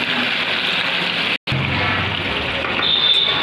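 Paneer cubes frying in hot oil until lightly reddened, giving a steady broadband sizzle with a brief drop-out midway, close and continuous with no talk.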